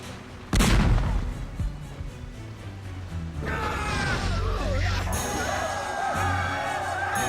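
Gunfire aimed at a lead rowboat: one loud, sudden shot blast near the start, followed by a rising wash of crowd shouting and scattered mechanical and explosive noises over a busy battle background.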